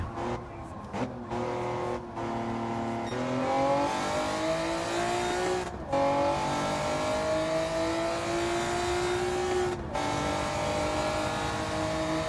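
Race car engine in a racing video game revving hard with rear wheels spinning up on worn tyres, sustained high engine whine with a few brief gear-change dips, loud and close.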